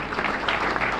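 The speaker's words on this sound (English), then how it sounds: "Another round of applause for him." Audience applause at a global health diplomacy event, a brief burst of dense, steady clapping filling the room, with no voices.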